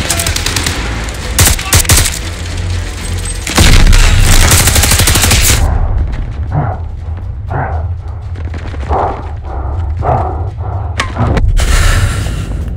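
Machine gun fire in Call of Duty Vanguard, loud sustained bursts at first, then separate sharp shots spaced out against a quieter background.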